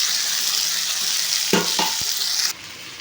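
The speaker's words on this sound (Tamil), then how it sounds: "போட்டு நல்லா வதக்கி விடுங்க." Tomatoes and garlic sauté in a pan for kara kulambu, a loud close sizzle with a few stirring knocks and scrapes near the end before the frying sound drops suddenly.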